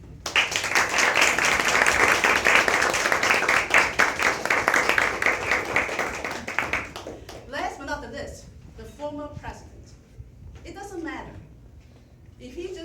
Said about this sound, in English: All of them deserve a big round of applause